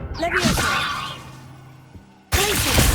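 A Levioso levitation spell from Hogwarts Legacy casts with a loud airy magical whoosh and swirling swish that fades over about two seconds, then a second burst of spell sound cuts in abruptly.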